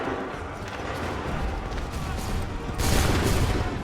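A volley of musket gunfire in Assassin's Creed 3 rolls as a dense, loud crackle of many shots, swelling sharply near the end, with battlefield noise and faint shouting beneath.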